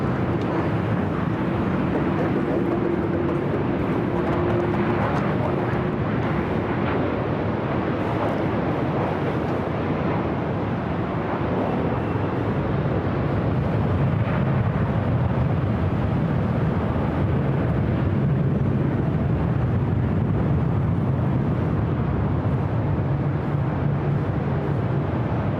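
Airliner taking off from the north side at LAX, a continuous low broadband jet roar with wind buffeting, steady and fairly loud throughout, no voices.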